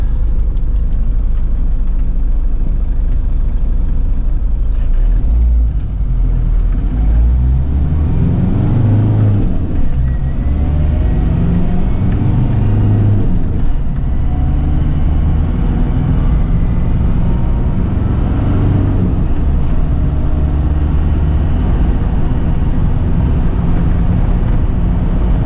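A 1993 Daihatsu Rugger F78 turbo diesel 4x4 runs loud and steady, its low engine drone held above idle with gentle swells in revs throughout.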